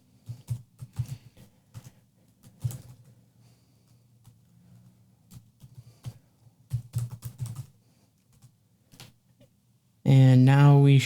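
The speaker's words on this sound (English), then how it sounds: "So we're going to type the following commands." Clicks of typing on a computer keyboard at a moderate, irregular pace during command entry, with a pause in the middle and a louder burst of other sound at the end.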